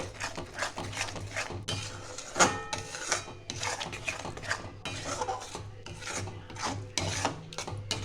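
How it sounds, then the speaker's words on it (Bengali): Chicken do piaza masala with yogurt being stirred in a pan over low flame: a spatula scrapes and rasps against the pan in quick, uneven strokes with occasional metallic clinks, close and clear, no talking. "এটা আমি একটু নাড়াচাড়া করব 1 মিনিটের মতো।"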